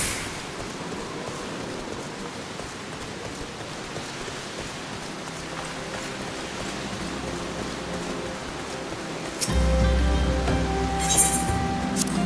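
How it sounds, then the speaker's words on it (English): Heavy rain in the Final Fantasy XIV game world pours steadily as a dense, even wash throughout, growing louder and fuller near the end with a few faint clinks. "It's raining hard"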